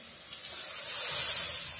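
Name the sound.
water poured into hot pan, hissing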